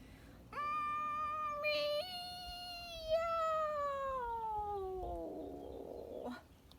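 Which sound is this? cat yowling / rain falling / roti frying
cat yowling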